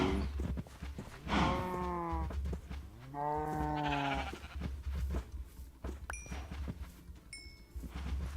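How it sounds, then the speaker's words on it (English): Minecraft cows mooing during animal breeding on a farm, several drawn-out harmonic moos in a row, fairly loud and close, with faint game clicks and chimes afterward and no talk. "breeding cows."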